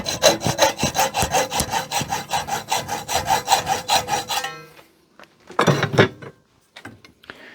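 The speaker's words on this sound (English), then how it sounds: "You do need to cut the pipe without damaging it so the fitting can come off." A hacksaw cuts through copper pipe in quick, rhythmic rasping strokes for about four seconds. After a pause comes a shorter burst of scraping and a few light knocks.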